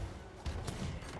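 A single quick shot in Sea of Thieves with a sharp report that rings briefly over steady game ambience, a little muffled as if fired nearby but not right at the listener.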